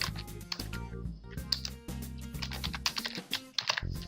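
Fingers type on a computer keyboard, a quiet, irregular patter of clicky keystrokes in short bursts, close and fairly soft.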